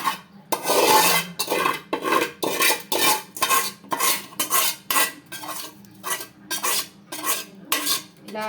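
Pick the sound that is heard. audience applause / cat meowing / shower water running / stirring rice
stirring rice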